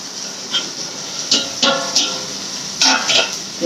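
Okra tossed into a pan of softened tomato, with clatter and stirring scrapes coming in irregular bursts over a low background hiss of cooking.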